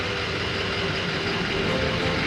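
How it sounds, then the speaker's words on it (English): A turbo diesel Cummins engine idles in a steady, low, continuous rumble with even texture throughout, close and unbroken, with no voices over it. "his engine's still running"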